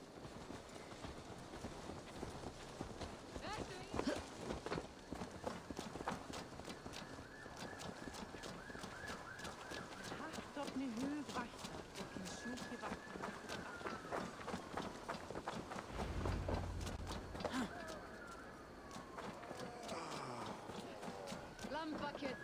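Rhythmic clip-clop of horse hooves trotting steadily in Assassin's Creed Valhalla, with game ambience and people talking over the hoofbeats throughout.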